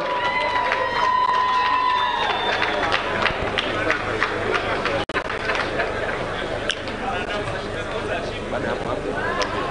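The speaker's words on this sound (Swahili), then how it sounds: "Makofi mengi kwake." Applause and cheering from an audience at the opening of the 46th Sabasaba international trade fair in Tanzania, greeting Azania Bank as the overall winning exhibitor of 2022. A dense, steady wash of clapping with a voice speaking over it throughout.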